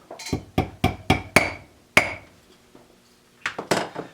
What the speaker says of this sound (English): I've got a nice little ball peen hammer. And we will just tap those home.